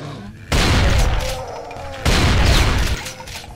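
Brutal Doom gunfire comes as two loud, sustained bursts of rapid shots close up, each lasting about a second and a half, with a short gap between them.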